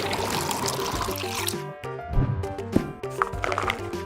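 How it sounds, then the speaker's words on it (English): Water poured into a bucket for mopping a Karndean floor, a close gurgling, splashing pour with shifting pitch and a brief pause partway through, with no talk over it. "Find a bucket. Add some water."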